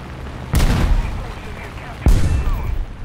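Two heavy 250-kilogram bomb blasts in War Thunder, a loud booming impact followed about a second and a half later by a second sharp explosion, each with a rumbling tail.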